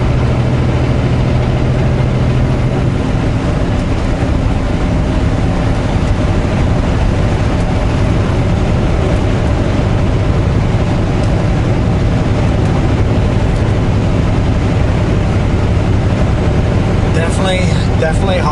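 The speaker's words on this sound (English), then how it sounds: "The fan's going all the time because it has to keep the engine cool, or the radiator water cool." A vehicle's engine cooling fan runs constantly in 37 °C heat, a steady broadband whir with a low engine hum beneath, unbroken from start to finish.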